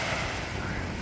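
Sea waves wash onto a beach in Busan as a steady, loud broadband rush mixed with wind noise on the microphone, with no distinct breaks across the short stretch.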